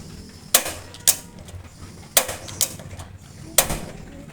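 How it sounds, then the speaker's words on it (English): Kitchen stove being switched on before heating oil in a pan, sharp igniter clicks in a few separate bursts, close and loud, with no talking. "you can turn on the stove in medium heat"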